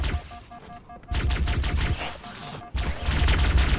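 Rapid gunfire from Halo: Combat Evolved rattles in dense bursts, loud and close, with a short pause before the firing resumes.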